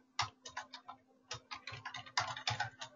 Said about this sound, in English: I'm just typing your answer.